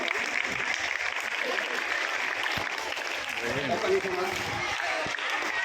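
Audience clapping at a government school event where donors handed out books, ID cards and a bell; sustained, fairly distant applause from a crowd lasting throughout, with faint voices in the background.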